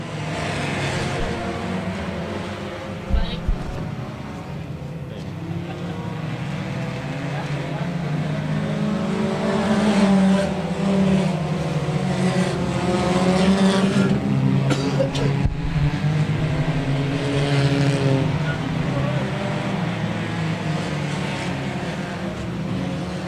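Hornet class race cars circle Brownstown Speedway in a feature race, engines droning and revving loud and nonstop as cars sweep past, with a track announcer talking over the racket.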